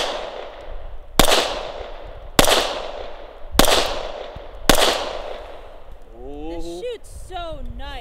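Four sharp, loud Glock 19X pistol shots ring out at an even pace, each with a short echoing tail, followed by people talking.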